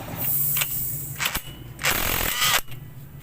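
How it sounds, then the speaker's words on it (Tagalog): A 22 mm socket wrench works a bolt loose on the clutch housing of a Kawasaki Barako motorcycle, giving close, loud bursts of rapid metallic ratcheting separated by short pauses, with no talk. "kalasin ko muna yung bolt dito sa may clutch housing gamit ang 22 na sakit"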